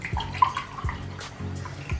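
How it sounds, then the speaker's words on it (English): Eight ounces of water poured into a bowl of cornmeal and flour, a short close splashing trickle with small drips, quiet and with no voices. "So now we're gonna pour our water"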